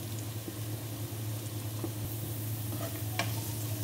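Carrots for chicken chowmein sauté in a pan with a steady soft sizzle and occasional faint stirring scrapes, close and fairly quiet.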